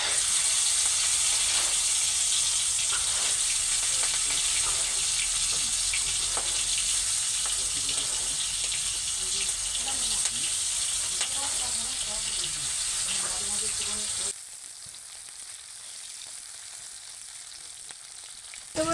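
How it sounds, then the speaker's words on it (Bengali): Fish pieces deep-frying in well-heated oil over a high flame, a loud, steady crackling sizzle that runs continuously up close before dropping suddenly to a quieter hiss near the end, with no talking. "এবার মাছগুলো দিয়ে ভেজে নেব।"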